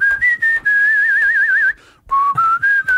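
A man whistles a tune in clear, close phrases, with a wavering trill in the middle and brief pauses between notes.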